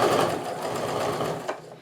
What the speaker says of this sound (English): I'm just going to keep on sewing